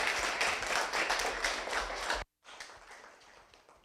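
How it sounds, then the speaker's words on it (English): Audience applause at a workshop event, a burst of clapping that cuts off abruptly, then resumes more faintly and thinner. "can we give another round of applause?"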